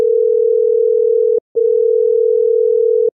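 A phone call's ringing tone plays loud and clear as two long, steady, low tones with a short break between them, and no voices are heard.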